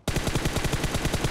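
Rapid automatic gunfire from a video game's team match, a fast steady burst of loud, evenly spaced shots filling the whole moment with no talking.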